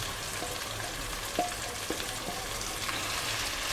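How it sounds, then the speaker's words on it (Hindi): Minced chicken fries with onions in a pan, giving a soft, steady sizzle with a few light utensil taps and scrapes as it is stirred. "और कीमे को भी हम भून लेंगे"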